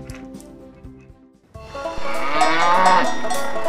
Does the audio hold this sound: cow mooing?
yes